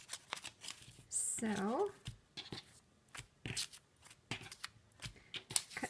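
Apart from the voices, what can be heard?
scissors cutting sewn paper-pieced fabric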